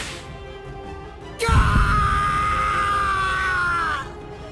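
Man screaming in pain in the Bleach Rebirth of Souls video game: one loud, sustained, strained scream that starts abruptly and holds for about two and a half seconds before cutting off, over low background ambience.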